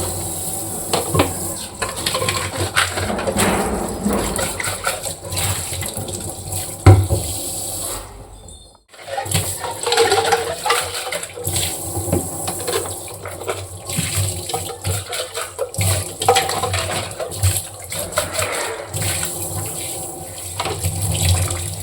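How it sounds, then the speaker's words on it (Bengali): Dishes and scrub pads are washed under a running tap, with continuous splashing water, clinks and scrubbing nearby and a brief pause midway before the flow resumes. "আর যতবারই আমরা বাসন ধোবো, ততবার কিন্তু এইভাবে কষলে আর স্কচব্রাইটগুলো ধুয়ে রাখবো।"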